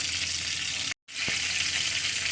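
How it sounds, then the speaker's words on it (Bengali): Dried red chillies hitting hot oil in a kadai on a gas stove for tempering give a steady, loud broadband sizzle, broken by one brief moment of silence. "দিয়ে তেল দিয়ে দিলাম ফোড়নের জন্য দিয়ে দিচ্ছি কটা শুকনো লঙ্কা"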